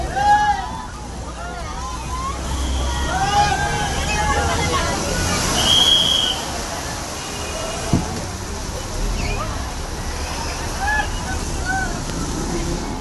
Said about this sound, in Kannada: ಕುಣಿಗಲ್ ರಸ್ತೆಯ ರಿಂಗ್ ಅಂಡರ್ಪಾಸ್ಗಳಲ್ಲಿ ಮಳೆ ನೀರು ತುಂಬಿ ಹರಿತಿದೆ